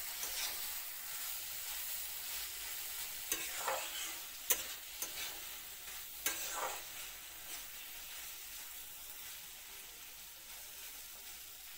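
Fried small shrimp being stirred with spices in a pan: faint, steady sizzling and frying with a few louder scrapes and clinks of the spoon against the pan.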